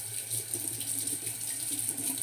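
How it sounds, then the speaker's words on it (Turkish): Cold water runs steadily from a bathroom tap into a sink during a shave, a constant close hiss and splash with no pauses. "Bu arada soğuk suyla saç sakallarımı her seferinde de böyle yapıyorum."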